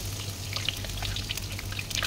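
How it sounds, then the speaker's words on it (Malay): Batter fritters (cucur) spooned into hot oil and frying over medium heat, a steady close crackle and sizzle with scattered bright pops and no talking. "So kita goreng cucuk ni dengan api yang sederhana."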